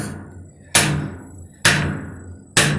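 An old hammer with a rebar handle strikes a stuck Packard straight-eight engine three times at a steady pace, each blow a sharp, loud metallic crack with a short ringing decay.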